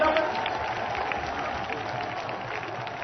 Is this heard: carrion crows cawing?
no